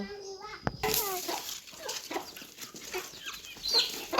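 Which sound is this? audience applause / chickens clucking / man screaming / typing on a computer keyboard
chickens clucking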